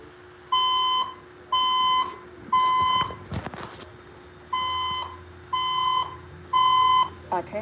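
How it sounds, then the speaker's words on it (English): Fire alarm system sounding a repeating electronic tone, six steady beeping pulses with a brief noisy gap between the third and fourth, loud and close. "The fire alarm system has been activated."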